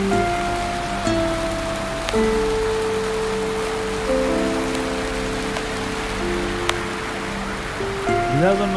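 Rain falls steadily on a rooftop terrace, a continuous broadband hiss with scattered drops, while faint tonal background sounds run underneath.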